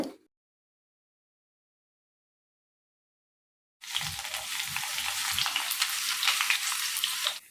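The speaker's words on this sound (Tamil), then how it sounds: "இப்போ கொஞ்சம் வெங்காயம் ஃப்ரை பண்ணிக்கிறோங்க மேலே டாப்பிங் சேர்க்குறதுக்காக" Onions frying in oil as a topping for veg dum biryani: after a few seconds of silence, a loud, steady close-up sizzle starts and continues with light stirring beneath it.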